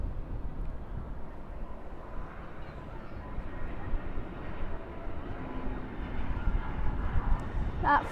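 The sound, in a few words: Airbus A319 airliner flying from Santa Barbara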